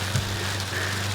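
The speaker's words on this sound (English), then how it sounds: "as I feel the raindrops starting to come down" Rain falls steadily outdoors, a dense close patter of raindrops on surfaces with a low steady hum beneath, and no voices heard.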